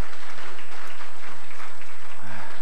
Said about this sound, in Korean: 우리 한번 환영의 박수하도록 하겠습니다.